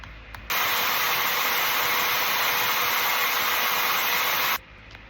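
A shotgun firing pin from an 1880s hammer shotgun is sanded with 320-grit paper, making a steady, close rasping hiss that starts abruptly, runs evenly for about four seconds, then stops, with no talking.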